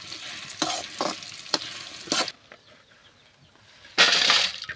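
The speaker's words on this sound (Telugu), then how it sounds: "మిరపకాయలు వేసుకుంటున్నాను, మాడకుండా వేసుకోండి" Dried red chillies and coriander seeds being stirred and fried in a little oil in a pan, with bursts of sizzling and scraping that come and go between quieter gaps, close and fairly loud.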